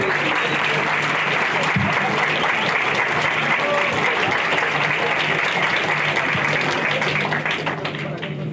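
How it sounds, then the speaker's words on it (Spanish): An auditorium audience gives a warm round of applause to welcome a lecturer before a keynote talk; dense, steady clapping fills the room for the whole stretch and fades slightly at the end. "recibamos con un cálido aplauso a la maestra Alexa Miley Gómez Restrepo"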